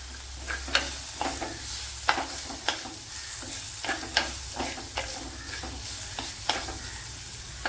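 Masala sautés and sizzles in a pan as a spoon stirs it, a steady frying hiss under a run of regular scraping strokes, close and fairly quiet.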